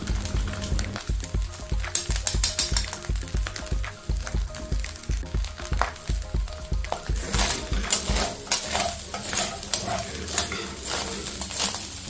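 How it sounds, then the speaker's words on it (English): Egg fried rice being stirred and tossed in a wok, with a steady run of metal scraping and clanking over a continuous sizzle, close and busy throughout, brighter and more hissing in the last few seconds. "And then we're going to give it a very good mix."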